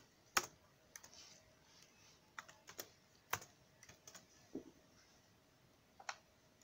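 Computer keyboard keys pressed one at a time during a jQuery key-event coding demo, giving sparse, irregular clicks that are fairly quiet and close, with no talking.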